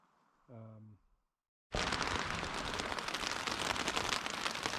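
A brief spoken phrase, a moment of silence, then steady heavy rain pours down loudly and continuously at a backpacking campsite in Algonquin Park, close and enveloping.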